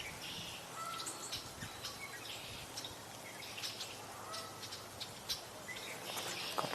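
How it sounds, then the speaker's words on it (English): Red-winged blackbirds sing at a distance on an outdoor tour, their scattered chirps and calls faint over a steady background hiss with no speech. "We're hearing red-winged blackbirds."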